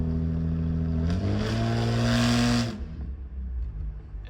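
A Toyota Mark II with a newly fitted aftermarket exhaust revs up to high RPM, the engine note climbing into a loud, raspy roar that holds for a moment before dropping back to idle.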